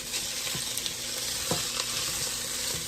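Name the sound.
onions and garlic frying in a pan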